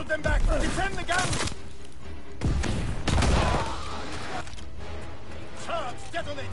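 Mounted gun firing in a Call of Duty battle, loud bursts of gunfire and crashing impacts close by, mixed with shouted voices and chaotic combat noise throughout.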